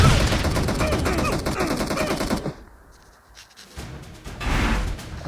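Rapid automatic gunfire rattles loudly through a shooter video game match, then drops away for a moment before another burst rises near the end.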